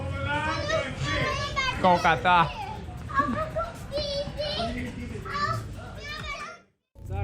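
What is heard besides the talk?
children playing and talking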